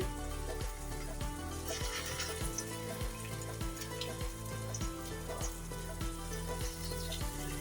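White sesame fritters frying one by one in a small amount of oil in a wok, giving a steady close sizzle broken by repeated light stirring or placement knocks throughout.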